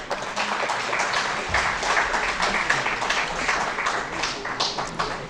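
An audience at a horticulture conference's valedictory award ceremony applauds in a steady, moderately loud wash of clapping that runs throughout.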